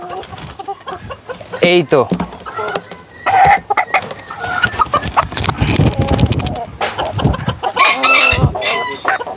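White frizzle Polish cap hens, a pair of laying females, cluck loudly and steadily up close, with crowing mixed in and someone speaking intermittently over the flock.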